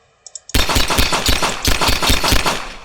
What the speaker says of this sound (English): he's got a gun, he'll shoot you